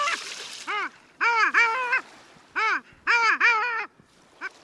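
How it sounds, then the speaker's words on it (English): Long-tailed ducks call from a cluster of sea ducks on a quiet winter bay, giving loud, insistent, yodelling nasal calls in repeated bursts of two or three notes with short pauses between, clear and carrying over calm open water. "They're long-tailed ducks, back for the winter from nesting far to the north."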